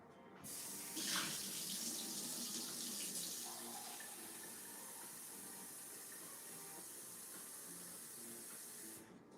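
Tap water rushes steadily into a sink as gray paint rinse water is swapped out, a continuous close splashing flow lasting about nine seconds before cutting off, with no voices.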